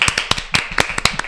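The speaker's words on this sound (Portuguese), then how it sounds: "uma salva de palmas!" A few sharp, separate claps at a podcast recording backstage at a congress, about a dozen close, uneven hits in quick succession rather than a full crowd.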